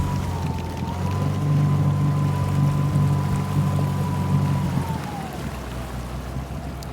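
Motorboat engine droning steadily on open water as it heads for a marina, a continuous low hum with a faint whine that drops off near the end, no voices.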